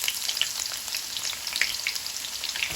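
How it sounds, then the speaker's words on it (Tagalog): Onions frying in hot oil in a pan give a steady, bright sizzle with scattered crackles and pops throughout. "Maglagay ng mantika para iprito natin yung sibuyas."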